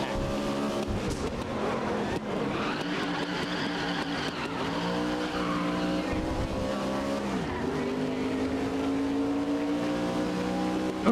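Race cars in a racing video game roar through the final lap, engine tones rising and falling continuously with tire squeal and skidding mixed in, loud and steady throughout with no one speaking.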